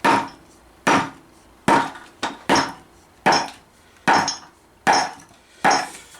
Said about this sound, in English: just get a nice planishing hammer, a good sized one like this, and just casually just lay into it